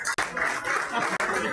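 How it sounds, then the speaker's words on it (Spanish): Applause from an audience at a Galician club spearfishing championship event, a short burst of dense clapping that stops briefly, resumes, with a murmur of voices beneath. "Un fuerte aplauso para Laura C."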